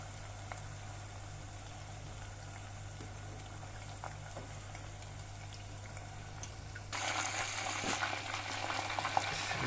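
Chicken for a crispy KFC-style recipe fries in bubbling hot oil with a steady low sizzle, which swells into a brighter, louder crackle after the pieces are turned near the end.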